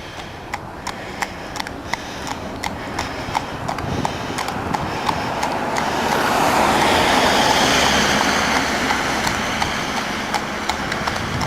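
A horse's hooves clip-clop on a road in a steady, evenly spaced rhythm. A passing vehicle's rising road noise swells over the hoofbeats midway, then fades as the clopping carries on.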